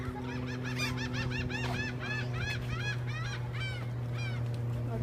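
Seagulls being fed call over and over in a rapid series of sharp, honking cries, fairly close, above a steady low hum.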